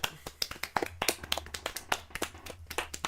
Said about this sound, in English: can we just give us a little round of applause for that one?